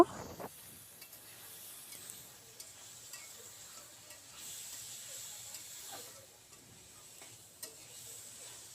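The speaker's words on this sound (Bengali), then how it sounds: "ভাজা ভাজা করে নিব।" Chopped yardlong beans fry in a little oil after their water has cooked off, making a steady low sizzle broken by the scrapes and taps of stirring throughout.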